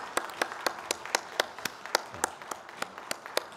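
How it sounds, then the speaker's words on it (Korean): Church congregation clapping during a Korean Sunday service, an even, rhythmic series of single sharp claps in time, quiet and fairly close. "하나님께 영광의 박수를 올려드리겠습니다"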